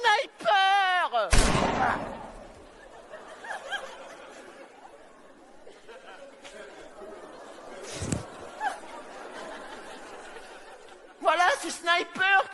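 A voice imitates sniper gunfire during a guessing game, with a sharp burst followed by another later on, among laughter and chatter from several people.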